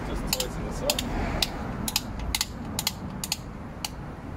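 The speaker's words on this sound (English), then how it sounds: "We can attach in our ratchet mechanism," A ratchet mechanism tightens the locking cable on an Atera Strada DL3 tilting bike rack fitted to a Mercedes Marco Polo campervan, giving a series of sharp, close metallic clicks in an uneven rhythm over a low background hum.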